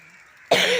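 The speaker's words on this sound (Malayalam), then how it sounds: "ചുമയുണ്ട്. ചുമ മാറിയിട്ടൊന്നുമില്ല." A single short, harsh cough from an ill woman, coming abruptly after a faint quiet hum and heard close and fairly loud.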